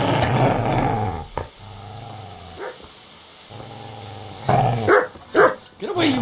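A dog in the medieval game Kingdom Come: Deliverance barks and growls, with rough bursts that come and go over low rumbling, loud and near, mixed with spoken game dialogue.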